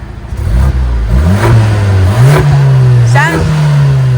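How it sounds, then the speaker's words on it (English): A 2025 Lotus Emira sports car engine revving from a quiet idle, rising in pitch through several close, loud throttle blips with falling and rising sweeps between them. "First we're going to hear the Emira. Let's hear how that thing sounds. Kind of quiet at first, but let's hear how it revs."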